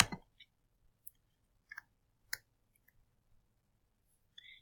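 Sparse, faint mouse clicks sound on a computer, a few isolated taps spaced over a quiet background, close and soft with no talking.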